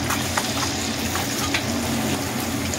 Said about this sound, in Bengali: দেখুন ডিমগুলোকে ফ্রাই করে নিচ্ছি।